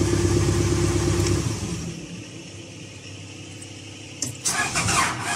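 A Caterpillar 428F backhoe with a hard-starting fault cranks and rumbles loudly for about a second and a half, then sputters down to a low uneven turnover before catching again with a rougher burst near the end.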